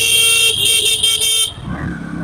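A car horn blasts repeatedly in street traffic, several loud honks in quick succession before cutting off, followed by engine and road noise.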